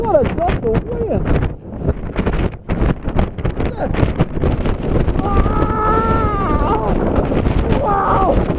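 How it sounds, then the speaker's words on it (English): Strong wind gusts roar and buffet the microphone in an Alaska blizzard, loud and continuous, while a person exclaims excitedly over the top. "Golly, what a gust of wind!"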